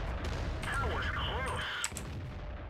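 Artillery gun in World of Tanks firing once with a muffled, distant boom midway, set against steady game ambience and swooping whistle-like tones.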